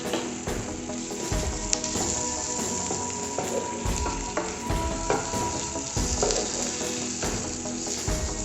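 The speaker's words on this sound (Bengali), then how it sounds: "দেখুন, পেঁয়াজটা অনেকটাই ভাজা ভাজা হয়ে গেছে।" Onions frying in a pan for a rohu fish piyaja, a continuous crackling sizzle with a steady bright hiss and faint rhythmic stirring scrapes, close and even throughout.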